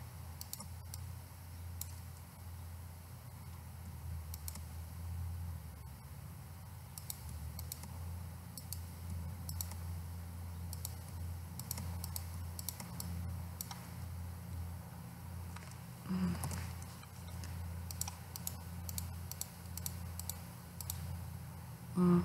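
Soft mouse clicks tick sporadically over a steady low hum as a computer is worked in photo-editing software, nearby and faint, with no talking.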